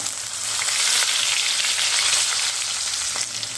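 Dal fries in hot oil with a ground green chilli and ginger paste and curry leaves, making a loud, continuous hissing sizzle that stays steady throughout with no talking.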